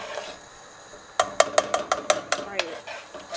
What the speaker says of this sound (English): Just want to stir it here and there so that way you get rid of all the clumps.